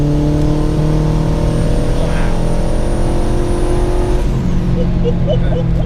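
A turbocharged K20 Honda Civic engine pulls steadily under part throttle through the gears, its drone rising smoothly and continuously, loud and close, with a brief shift in tone near the end.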